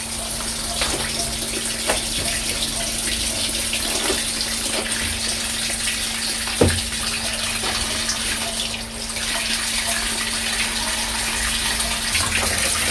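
Water runs steadily from a tap for the final rinse of hand-washed laundry, a constant close gush with a faint hum beneath, broken by a single knock partway through.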